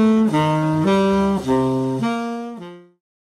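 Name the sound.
saxophone playing diatonic arpeggio permutations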